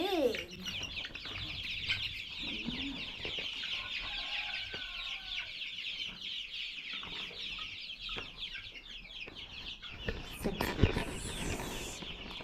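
Six-week-old farm chickens cluck and call steadily, a busy flock close by with occasional wing flaps and louder squawks near the end.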